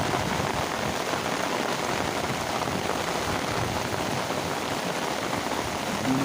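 Heavy rain pours steadily over a flooded village in Tamil Nadu, a dense, unbroken hiss of drops on surfaces and water, loud and constant throughout with no voices.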